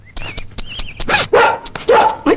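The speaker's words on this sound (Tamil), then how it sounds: "என்ன நாய் வருது?" A dog barks several times in sharp, close bursts, with yips and a brief whine between them and no talk over it.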